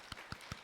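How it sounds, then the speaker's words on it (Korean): A church congregation applauds newly graduated members in a short burst of clapping, a few distinct claps heard fairly faint and spaced apart in a large room. "우리가 또 한 번 더 수료를 축하하는 그런 박수를 한번 해주시면 좋겠습니다"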